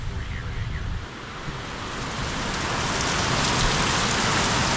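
Heavy storm rain lashes down during flooding, a thick broadband roar that swells louder over several seconds, with a faint voice briefly in the background early on.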